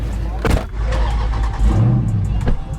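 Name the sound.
Dodge Charger 392 Scat Pack engine revving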